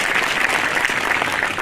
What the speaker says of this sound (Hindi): तो एक बार पूरी आयोजन समिति के वास्ते एक बार जोरदार ताली हो जाए।